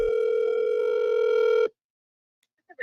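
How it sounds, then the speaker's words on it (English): A steady telephone dial tone sounds loud and continuous for under two seconds as a call is being placed, then cuts to silence with a couple of faint clicks. "we're going to make a phone call and see what's going on."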